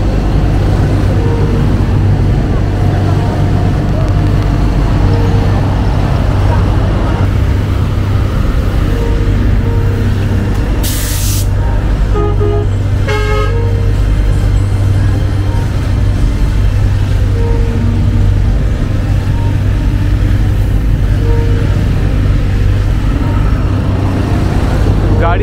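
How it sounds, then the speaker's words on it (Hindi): Heavy street traffic in Port-au-Prince, Haiti: a dense, loud continuous rumble of engines close by, with a brief horn-like tone partway through, and faint voices mixed in. "बहुत सारा ट्रैफिक है।"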